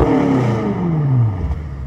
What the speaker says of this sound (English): Awesome, awesome sound. I think this year, man, they've done some tweaks to that M Performance exhaust.